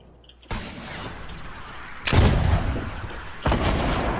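Gunfire in a shooting video game: three loud, abrupt bursts of shots, each hitting hard and ringing out into a sustained noisy tail, with no talk over them.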